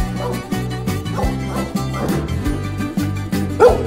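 Dogs bark repeatedly on the Greek island of Ikaria, sharp yips and bow-wows sounding over steady music that plays throughout.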